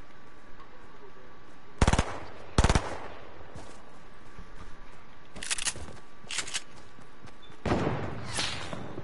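Rifle shots from an AK in a video game, heard as a couple of isolated loud bursts with a few fainter cracks later, over a low ambient bed.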